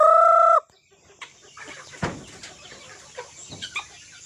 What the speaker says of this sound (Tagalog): Ini mong mga manok diri guys, pabo o kaning ginyapaw.